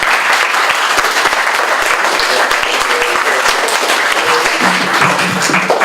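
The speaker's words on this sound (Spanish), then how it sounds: "Por favor, recíbanlo con un fuerte aplauso." A crowd at a health week event gives loud, vigorous applause to welcome a speaker, a continuous wash of clapping with sharp individual claps standing out throughout.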